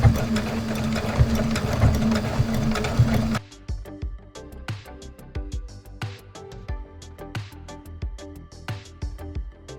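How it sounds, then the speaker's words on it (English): A sewing machine runs steadily while stitching a seam on a fall wall sign project, a dense loud whir for about three seconds, then it stops and only scattered small clicks and handling taps of fabric and thread follow. "Then you can pull it out of the machine and cut off the excess threads."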